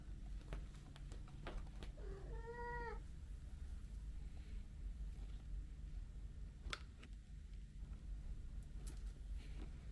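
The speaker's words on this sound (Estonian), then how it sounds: "Tule, lähme otsime Kiisule maius siis" A house cat wanting a treat lets out one drawn-out meow in a quiet indoor room, with a few faint clicks and taps before and after it.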